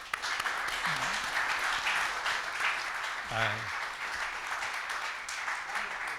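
An audience at a film lecture gives a steady wash of applause, continuous and moderately distant, with a voice briefly cutting through partway.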